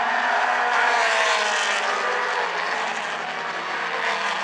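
Mini stock race cars roar past on the oval at South Sound Speedway in a dense, sustained engine wash that stays loud and steady, swelling slightly as the pack sweeps by.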